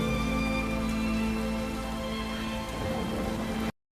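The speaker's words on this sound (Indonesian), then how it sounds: "Hal ini pun diiringi turunnya hujan." Steady heavy rain pours down in a forest setting from the film Into the Forest (2015), a dense, even hiss that stays loud and close for several seconds before cutting off abruptly.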